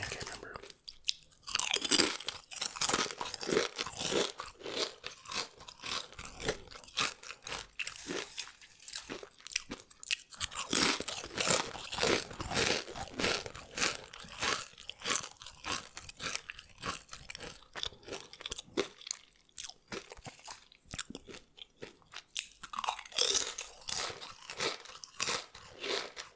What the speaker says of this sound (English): I just wanted an excuse to eat Doritos.